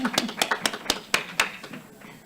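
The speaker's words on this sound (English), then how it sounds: "a round of applause for sure" A short round of applause at a committee meeting: a handful of scattered hand claps, quick and fairly faint, tapering off after about two seconds.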